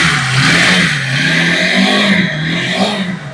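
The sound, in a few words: Lifan KPR 150 motorcycle engine revving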